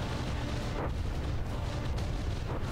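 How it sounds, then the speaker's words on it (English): Deep, rumbling explosions from a battleship fight in the video game From the Depths, with a steady roar of distant blasts and booms filling the whole stretch without talk. "Did we have an internal explosion there?"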